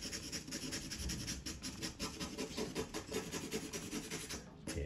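Job-site marker being rubbed across dusty MDF offcut, a steady close raspy scratching with repeated strokes throughout, continuous and fairly quiet.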